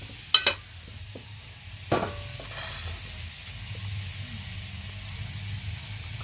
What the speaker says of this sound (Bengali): বাঁধাকপিটা একটু নেড়ে চেড়ে নেবো